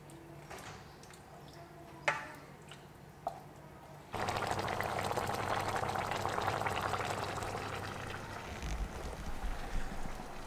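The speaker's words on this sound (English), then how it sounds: "so that's my sauce going. Just gonna let that simmer now" A vegetable sauce for lasagna simmers in a pot. After a few quiet clicks and knocks, a dense, steady bubbling hiss rises and holds.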